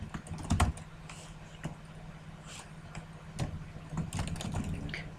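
Steady typing on a computer keyboard, a run of quick, close key clicks with brief pauses and a couple of heavier keystrokes.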